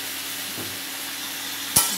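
Vegetables seasoned with salt and sugar being stirred in a frying pan, a soft continuous sizzle with a sharp clink of the utensil near the end, no one speaking.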